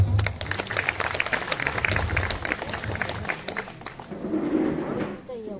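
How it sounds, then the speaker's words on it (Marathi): Applause from an audience at a village Shiv Jayanti celebration in Kudu Khurd, Gujarkond: a dense, steady burst of clapping for about three seconds that then fades into general crowd murmur. "आधी एकदा स्वतःसाठी टाळ्या वाजवा की तुम्ही जन्मोत्सव सोहळा साजरा करताय"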